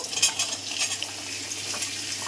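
Whole spices tempering in hot oil in a pan for sambar, crackling and sizzling steadily while a spoon scrapes and stirs, close and continuous with no voices.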